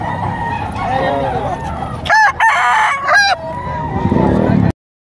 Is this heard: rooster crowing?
yes